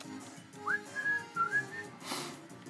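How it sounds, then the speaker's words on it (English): A person whistles a short, wavering tune, a few sustained notes sliding up and down, over a faint room murmur. "I can whistle."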